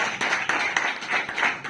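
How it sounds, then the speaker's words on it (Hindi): A crowd at a meeting of LIC insurance agents breaks into loud, rapid clapping, a brief dense burst of applause close by with no talk over it. "जोरदार ताली"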